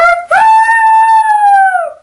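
A person's voice imitates a coyote howl: a loud, close, sustained yowling tone that briefly breaks, then swells and slowly falls away over about two seconds.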